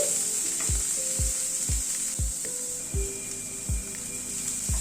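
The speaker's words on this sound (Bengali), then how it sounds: "নুনটাকে দিয়ে একটু নাড়াচাড়া করে নিচ্ছি।" A salted mixture fries and sizzles in a pan with a constant hiss while a spoon stirs it, giving repeated soft knocks at roughly half-second intervals, close and alone without talk.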